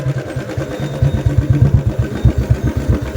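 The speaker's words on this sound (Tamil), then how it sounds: "அது பைக்கு போகுது கைஸ்." A motorcycle engine chugs nearby with a quick, pulsing beat and some mechanical clatter, running on its own, loud and close, on the way to a mountain viewpoint.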